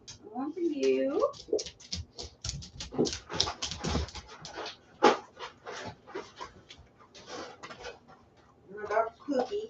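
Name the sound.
dog Cookie whimpering and panting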